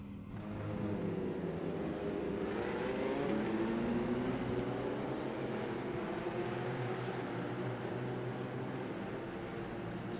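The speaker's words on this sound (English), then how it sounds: "Engine starting to fire up." Race car engines fire up on the starting grid of the Australian Grand Prix, a rising, whining drone of revs that holds fairly faint and steady for about ten seconds, with no talk.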